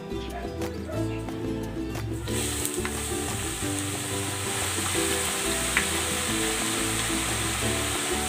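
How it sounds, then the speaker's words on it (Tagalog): Sliced saba bananas fry in hot oil, giving a steady, dense sizzle that continues unbroken from start to finish with no one talking. "Iprito natin ito hanggang sa mag golden brown."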